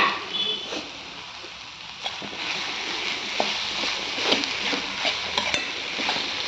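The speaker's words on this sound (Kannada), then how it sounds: "ಈಗ ಇದಕ್ಕೆ ನಾನು ಒಂದು ಹೆಚ್ಚಿರೋಂಥ ದೊಡ್ಡ ಒಂದು ಟೊಮೊಟೊ ಹಾಕ್ತಾಯಿದ್ದೀನಿ. ಈಗ ಇದು ಚೆನ್ನಾಗಿ ಸ್ವಲ್ಪ ಮಿಕ್ಸ್ ಆಗಲಿ" Chopped tomato gets stirred into frying sabsige (dill) greens in a pan at home, with a steady soft sizzle and intermittent scraping clicks of the spoon against the pan, moderately close.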